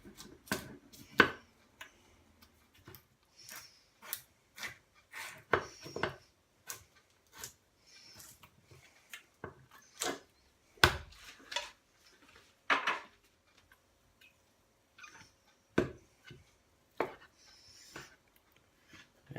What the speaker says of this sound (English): let's get this tin of corned beef opened and diced up